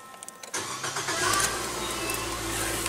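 A 2015 Nissan Versa's 1.6-liter four-cylinder engine cranks briefly, catches and settles into a steady idle, heard up close and alone.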